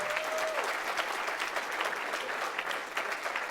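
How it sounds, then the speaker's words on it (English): An audience at a speaking event gives a round of applause after a talk, dense continuous clapping from many people at a moderate distance, steady throughout the short stretch. "Please give one more round of applause to Jasmyn."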